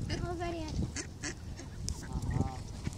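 Geese and ducks honk and quack outdoors on a cool, windy afternoon, with a drawn-out honk near the start and another later, mixed with a voice and wind noise.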